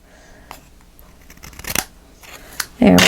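Scissors trim paper overhang on a handmade Magnolia Lane photo album, a few close snips and paper rustles, then louder handling noise at the end while a voice talks faintly.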